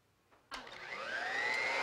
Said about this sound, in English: you got the blower off